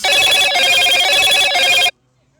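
A phone rings loudly with an incoming call, a steady electronic ringtone pulsing in repeated bursts for about two seconds before cutting off abruptly into silence.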